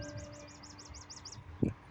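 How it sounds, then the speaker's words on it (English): A bird repeats a quick series of about ten bright, evenly spaced chirps, clear and fairly close, followed by a short low thump nearby. "You hear the birds?"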